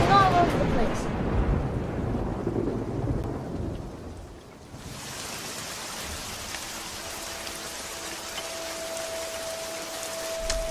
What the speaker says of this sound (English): it was raining cats and dogs, thundering all over the place.